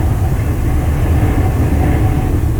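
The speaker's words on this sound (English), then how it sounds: "And you can hear the wind just ripping through." A loud, steady roar of rushing wind and low road rumble fills the clip without pause, heard inside a moving car with a window open.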